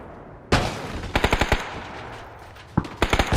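Video game gunfire rings out in two close, loud volleys of rapid machine-gun shots, each opening with a heavy blast followed by quick repeated bursts.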